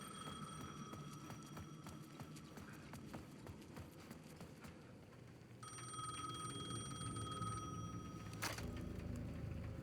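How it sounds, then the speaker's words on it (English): A payphone at the edge of a plaza rings in the video game Alan Wake II, a faint electronic ring sounding over footsteps and ambient clatter, quiet and steady, with no voices. "The payphone at the edge of the plaza was ringing again."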